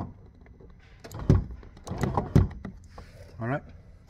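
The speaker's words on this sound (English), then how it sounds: "So what it does is actually drops the window down" After some thumps and a person speaking, a brief electric motor whir sounds as a Porsche 996 Carrera or 986 Boxster power window quickly drops.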